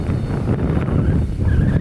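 Heavy gusts of wind outdoors beside a road with trees, a loud, steady rumbling roar buffeting the microphone throughout, with no voice over it.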